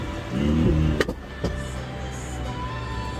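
A straight-piped Ferrari 488 driving in traffic gives a loud exhaust rumble that fades, followed by two sharp pops about half a second apart, then a quieter steady hum with no talking.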